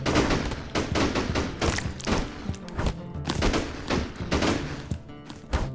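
Firecrackers go off in the cave action game Caveblazers, a rapid, dense volley of loud pops and thumps bursting in clusters throughout, with no talking.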